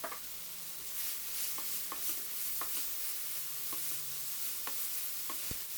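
Tomatoes sizzle steadily in a hot wok for egg-and-tomato stir-fry, with a continuous frying hiss broken by sharp, irregular clinks and scrapes of a utensil stirring, close and moderately loud with no voices.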